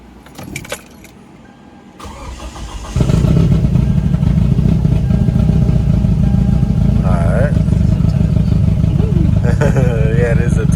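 Keys jangle, then a big-turbo Toyota Camry fitted with a new Mishimoto R-line intercooler cranks and fires, settling into a loud, steady, slightly rough idle nearby while a few faint voices chatter over it.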